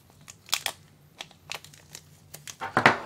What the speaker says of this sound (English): Use a pair of dykes to cut the bag open.